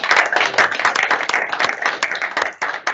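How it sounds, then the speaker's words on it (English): Enthusiastic audience applause at a ConfigMgr user group conference session, a loud, dense and continuous burst of many hands clapping close by. "Big claps here."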